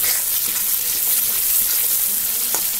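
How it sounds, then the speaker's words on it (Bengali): Food for a prawn malai curry being stirred in a frying pan: a steady bright sizzle runs throughout, with soft, irregular scrapes from the stirring. No one speaks. "একটু নাড়িয়ে নেব।"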